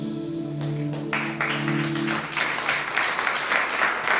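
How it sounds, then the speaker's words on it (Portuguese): A church congregation applauds, a sustained scatter of clapping that swells after a held musical tone fades. "Pode aplaudir mais forte a Jesus"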